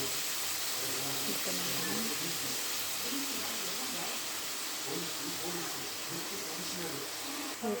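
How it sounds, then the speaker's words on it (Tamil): Paneer frying in melted butter gives a continuous soft hiss and sizzle, steady and close throughout, ending with a small clunk. "இதை நம்ம பன்னீர் சேர்த்து ஃப்ரை பண்ணி எடுத்துக்கலாம்"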